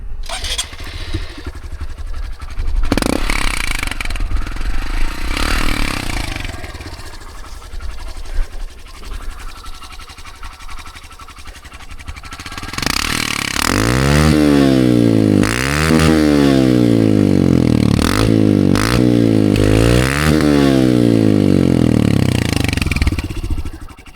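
Dirt bike engine on a desert trail, idling and puttering at first, then loud repeated revs rising and falling through the exhaust, close and dominant, with a rider's voice briefly heard.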